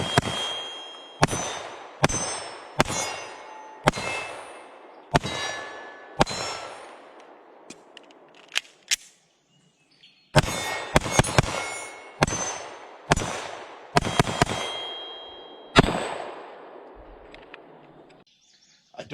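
Shots from a S&W M&P 2.0 Compact Carry Comp 9mm pistol: a steady series of sharp, ringing outdoor reports spaced about a second apart, a short pause, then another string of shots, loud and close.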